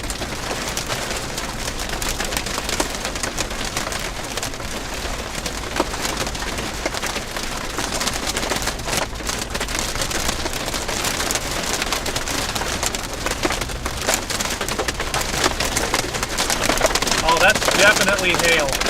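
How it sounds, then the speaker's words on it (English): Hail and rain pelting a vehicle during a New Mexico storm, a dense continuous patter that grows slightly heavier toward the end, with no clear talk over it. "That's definitely hail."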